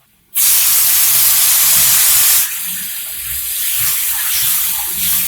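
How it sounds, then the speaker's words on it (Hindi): Water gushes loudly into a cooking pan for chicken karahi as spices cook, a steady hiss-like pour that starts abruptly, then settles into a softer bubbling sizzle. "थोड़ा सा इसमें पानी डालूंगी अब मैं।"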